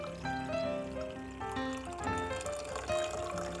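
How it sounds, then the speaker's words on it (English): Espresso pours into a mug at home as part of a latte routine, a soft steady trickle heard faintly under tonal background music. "We can now pour our luxurious looking espresso into our mug."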